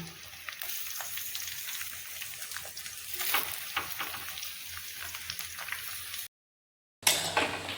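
Onions fry in a pan over a charcoal fire with a busy, steady sizzle and crackle, briefly cutting to silence before the loud frying resumes.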